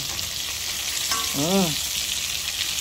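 Chicken pieces frying in hot oil give off a steady, dense sizzle throughout, with a brief background tone briefly rising and falling over the crackle.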